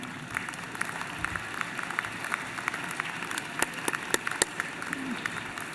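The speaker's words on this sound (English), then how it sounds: "could you look over at them and give them a round of applause?" Applause from graduates for their guests at a spring convocation ceremony, a steady, moderately loud patter of many hands with sharper individual claps standing out near the end.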